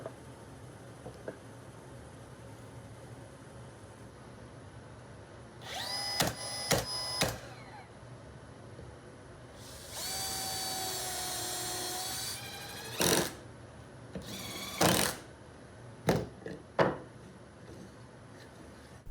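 A power saw cuts 3/4 inch plywood scraps in a woodworking shop, with several loud bursts of whining motor and cutting: a few short ones, a longer sustained run, then more brief spurts.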